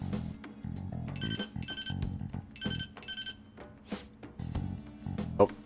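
Electronic phone ringtone from the video game Persona 5 Royal, a repeating high chime over a steady game music bed, chiming in several short bursts.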